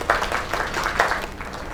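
A small crowd gives a round of applause after a performance at a drinks gathering, a soft, continuous patter of many hands with a few slightly louder swells.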